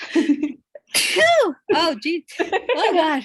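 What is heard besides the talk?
sneeze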